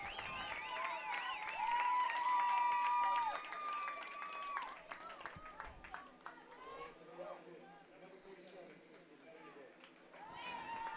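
Crowd at a high school boys soccer game cheering and clapping after the Rockets score the tying goal, a loud burst of whistles and shouts that gradually fades into scattered claps and chatter.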